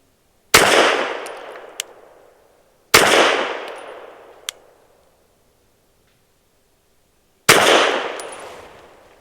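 An Adler Arms AD 9 pistol firing Ammo Inc. Stolth ammunition at an outdoor range: three loud, spaced gunshots, each with a long echoing decay, plus small metallic pings of steel targets or ejected casings between them.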